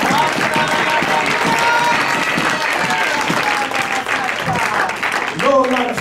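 A church congregation claps during worship, a steady wash of hand claps under voices and singing that continues throughout.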